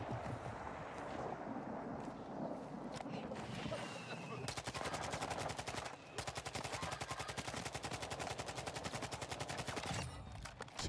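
Assault rifle gunfire in the shooter game Warzone 2: scattered shots, then long sustained automatic bursts with a rapid, even rattle, loud over a busy game background.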